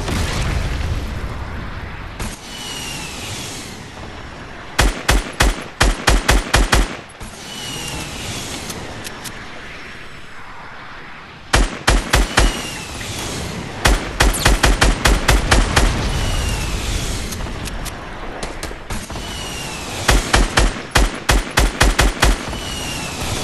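Gunfire and RPG blasts in a Fortnite squad battle royale match: repeated rapid bursts of automatic fire and heavy booms come in clusters, loud and close, between quieter stretches of in-game ambience.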